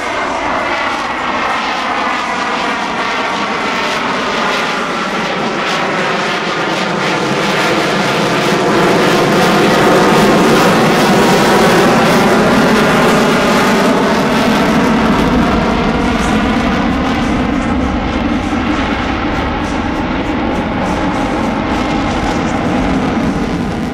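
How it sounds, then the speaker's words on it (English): Super Hornet fighter jet flies past at an air show, a loud sustained engine roar that swells and sweeps in pitch as it passes, then keeps rumbling with no talking. "Ladies and gentlemen, let's hear it for the Super Hornet."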